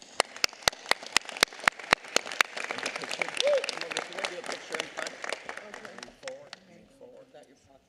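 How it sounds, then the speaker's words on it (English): Applause from a crowd at a Los Angeles County Board of Supervisors meeting honoring faith community representatives, starting with sharp claps and swelling into a dense round before tapering off, with voices talking beneath it. "Let's give them another round of applause"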